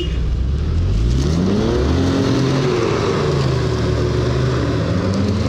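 A 4x4 off-road vehicle's engine drones loudly and continuously nearby, its pitch rising and falling as it revs while crawling over rough ground.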